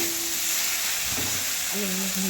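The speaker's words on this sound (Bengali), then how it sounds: "এবার আলুগুলো ঢেলে দেওয়া হলো" Potatoes sizzle steadily in a pan with spices and tomatoes while an egg curry cooks, a constant close frying hiss with a brief clatter midway and a faint hum near the end.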